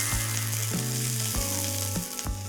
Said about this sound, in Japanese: 焼き目ついたら裏返して、ちょっと火弱めて、この後蓋して蒸し焼きにしていきます。